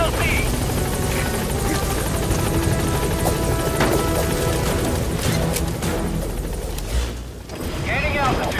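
The Pequod helicopter hovers at a landing zone in Metal Gear Solid V: The Phantom Pain, its rotor wash a loud, steady, close roar with a brief dip near the end and game voices in the mix.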